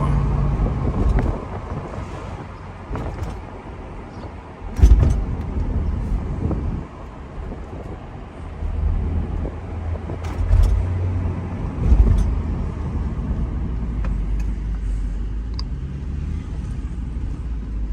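Mercedes-Benz SL500 on Neomax coilovers rolling along with a steady low road and engine rumble, wind buffeting the microphone and a few thumps from bumps, no talking.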